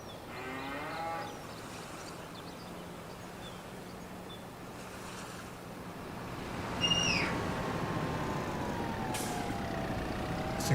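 Cattle lowing in Farming Simulator 25 on a farm with hundreds of cows: a drawn-out moo near the start and another longer one later, over a steady low rumble of machinery and ambient farm noise.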